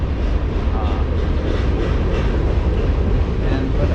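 A train rolls past on a railway in Pittsburgh, Pennsylvania, a continuous low, heavy rumble that holds steady throughout.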